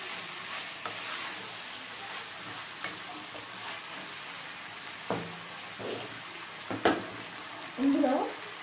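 Gongura chicken curry being stirred in a pan, soft scraping and light sizzling with a few louder knocks of the spoon, close but fairly quiet, with a voice briefly heard.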